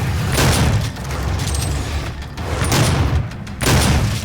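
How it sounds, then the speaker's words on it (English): Shotgun blasts in Doom 2016, loud booming shots with short mechanical clatter between them, repeated in heavy bursts at close range with no talk. "Fire twice with the shotgun before having to reload."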